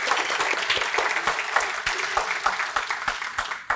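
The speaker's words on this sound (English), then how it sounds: "let's give them a round of applause for their sponsorship" A lecture audience gives a sustained round of applause for the sponsoring Diehl family, with a thick, even wash of clapping from many people that holds steady to the end.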